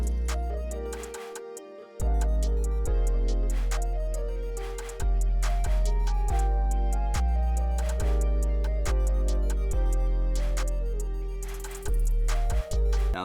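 Pluggnb beat built in FL Studio, with deep booming 808s under a bright, bell-like melody and crisp hi-hats, loud and steady after a brief sparse intro, with the full mix dropping in around two seconds.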